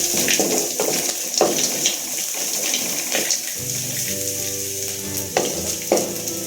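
Whole roasted peanuts dropped into hot oil for lemon rice, giving a loud, steady close sizzle and crackle with stirring scrapes throughout and a faint hum underneath, with no talking.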